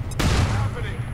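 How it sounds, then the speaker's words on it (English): A flashbang grenade going off in the XCOM 2 video game, a single sharp burst that rings out with a broad, decaying rumble for about a second. "they're gonna shoot a flashbang at my assault."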